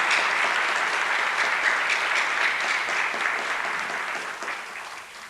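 An audience at a Muslim Day at the Capitol event applauds after a keynote, a loud, dense roll of clapping that holds strong and then gradually thins and fades toward the end.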